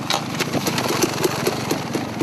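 A KTM enduro motorcycle at a national enduro race, a continuous buzzing two-stroke style engine drone with regular revving pulses, mid-distance and steady throughout.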